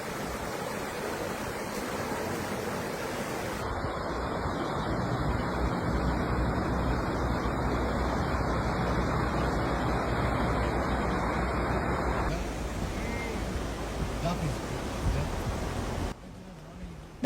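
Floodwater rushes under a washed-out bridge at Olera Creek in Queensland, a dense, steady roar of flowing water that fills the whole stretch at fairly constant strength.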